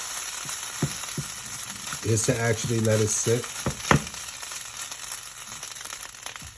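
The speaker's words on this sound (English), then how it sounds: "another good technique with frying rice" Plant-based stir-fry rice sizzling steadily in a hot pan, with brief scraping and stirring clatter partway through as the rice is pressed to brown; a person talks over the continuous frying.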